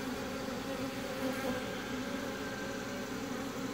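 Honeybees at an open hive buzz steadily around a newly introduced mated queen, a continuous, fairly quiet drone of many wings at close range with no talking.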